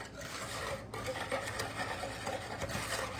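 A whisk beats whole milk, flour and sugar together in a bowl for a microwave coconut pie, a steady close scraping, rattling churn that never stops, with no talking.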